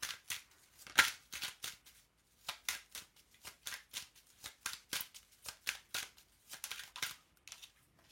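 Tarot cards are handled and shuffled close up, with a long series of crisp riffling and snapping bursts in quick irregular rhythm, some louder than others, and no talking.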